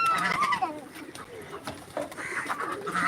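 Chickens cluck among pigeons and ducks at a home feeding spot, irregular close clucks and bird calls mixed with people talking nearby.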